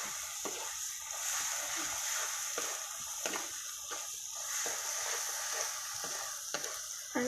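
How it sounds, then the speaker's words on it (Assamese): Onion with ginger and garlic frying in oil, a steady close sizzle broken by scraping stirs at an irregular pace. "তেনেকৈ মই অলপ সময় ভাজি লওঁ।"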